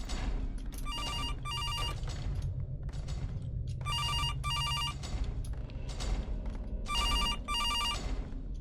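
Telephone bell ringing in the Animatronics Survival video game, a steady repeating double-ring pattern recurring three times over a constant low rumbling background, no talk.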